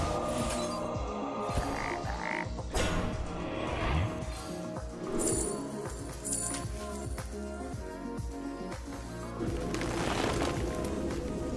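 A Hearthstone Hex effect sounds, with repeated frog croaks set against busy game effects and clinks. The croaks are close and fairly loud, and faint talk appears briefly.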